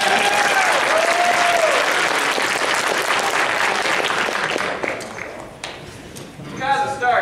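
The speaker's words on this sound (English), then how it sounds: "Give a round of applause!" An audience at a furry convention charity auction applauds loudly and steadily for several seconds, tapering off into scattered claps and murmuring voices.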